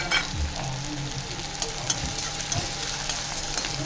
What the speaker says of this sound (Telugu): గోల్డెన్ బ్రౌన్ కలర్ వచ్చే వరకు వేయించుకోవాలన్నమాట.